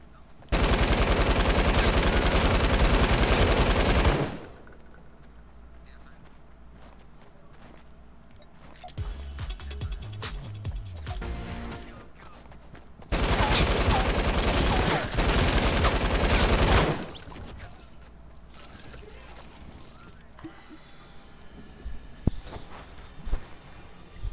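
Light machine gun in a video game firing long sustained bursts, loud and close, broken by a pause with quieter game noise before another burst, then quieter shots and game sounds.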